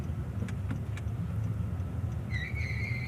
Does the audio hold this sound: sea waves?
no